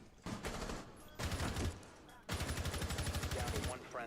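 Rapid automatic gunfire from a Rainbow Six Siege match comes in three loud, close bursts, the last a long steady stream of shots, with a voice speaking in the brief gaps between bursts.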